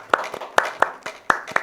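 A handful of sharp, separate hand claps, close and fairly loud, sound at an uneven pace, given as thanks to two people.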